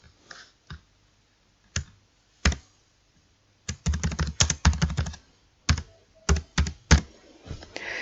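Keys clatter on a computer keyboard as text is typed, with sparse single taps followed by quick irregular bursts of keystrokes, close and crisp with pauses between.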